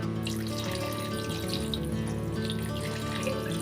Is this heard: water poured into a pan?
yes